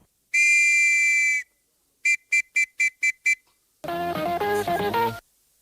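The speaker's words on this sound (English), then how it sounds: "a simple whistle is not just a sound" A shrill whistle gives one long blast, then a quick series of six short toots, followed by a warbling, trilled whistle.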